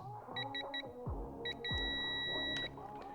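A handful of short electronic beeps from a digital torque wrench in quick pairs, followed by a longer steady beep, over faint background hum.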